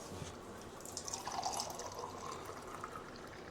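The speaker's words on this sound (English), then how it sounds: "pouring it like that rather than through a pump, that's the proper old way, isn't it?" Beer is gravity-poured straight from a cask at Donnington Brewery, a faint, steady trickle of liquid filling a glass, with no talk over it.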